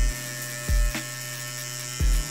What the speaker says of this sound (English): Now I'll be using the Wahl Shaper Shaver to get detailed outline of my hairline.